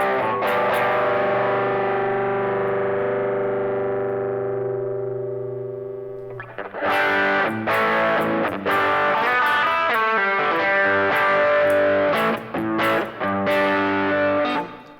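An electric guitar played through a Kemper Klon-style drive pedal, with a long sustained distorted chord ringing out and fading, then a burst of choppy overdriven riffing with quick chord stabs, loud and close.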